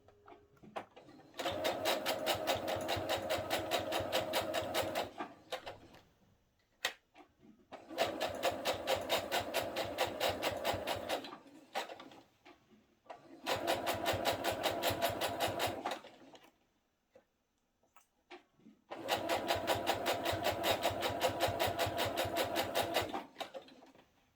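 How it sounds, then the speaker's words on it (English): A sewing machine stitches down a bodice placket in four loud, close bursts of rapid rhythmic whirring, each several seconds long, separated by short quiet pauses with small handling clicks. "So I'm going to stitch this down."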